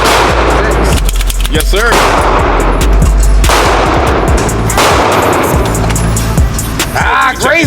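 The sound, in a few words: handgun shots fired in shooting drills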